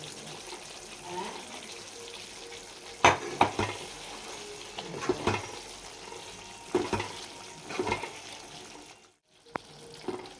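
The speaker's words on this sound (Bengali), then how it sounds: "পটলগুলো দিয়ে একটু নাড়িয়ে নিয়েছি" Fried pointed gourd stirred in a pan makes a soft sizzle under scattered scraping and knocking strokes that grow busier midway, then drops to near silence before one last clack.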